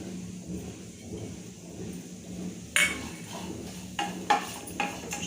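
Grated coconut is sautéed in a metal pan for egg gravy, with a low background hiss and a few sharp clinks of a utensil against the pan near the end.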